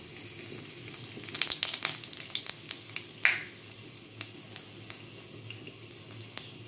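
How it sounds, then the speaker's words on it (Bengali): Dried red chillies, a bay leaf and panch phoron tempering in a little hot oil, giving a soft steady sizzle dotted with quick crackles and pops that thin out over time; close by, no talk. "জাস্ট একটু ভাজা ভাজা করে নেব বন্ধুরা"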